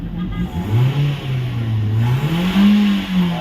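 A car engine revved after its fuel filter was replaced, the pitch rising and falling in smooth swells of throttle, close and loud for a few seconds.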